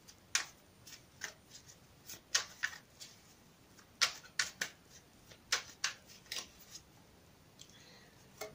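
A Radiant Rider-Waite tarot deck being shuffled by hand, giving a series of quiet, crisp card riffles and flicks in irregular bursts, close and fairly soft, with no talking.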